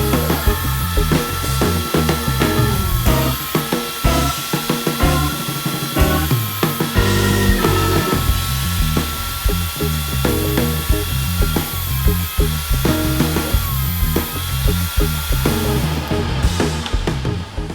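A Grizzly G0940 benchtop thickness planer feeds cedar, soft maple and walnut boards through, producing a loud, continuous motor whine with layered droning tones that shift as each board passes, with no talking.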